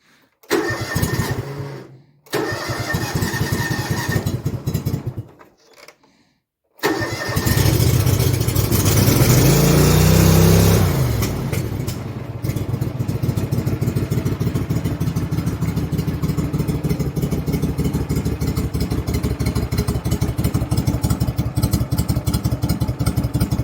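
A John Deere F725 front-mount mower, cold and on choke, cranks in a few short tries, then catches with a loud roar and settles into a steady, rhythmic idle close by.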